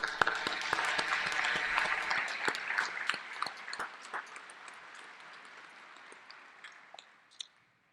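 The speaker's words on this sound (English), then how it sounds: "Please join me in a round of applause" Applause from a medical school commencement audience, starting fairly full then thinning out to scattered individual claps that fade toward the end.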